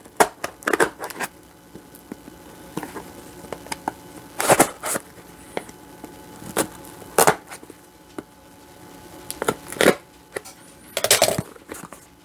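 Scissors cutting open a cardboard box holding a guitar pickup: intermittent sharp snips, scrapes and crunches of cardboard and packing, in irregular bursts separated by quieter handling noise, close up.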